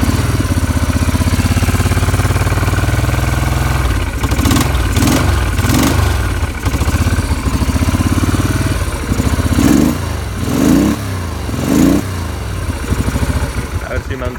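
An original 1991 Moto Guzzi 750 Targa engine runs loud and close, settling into a throbbing idle with several short revving swells, while someone talks over it.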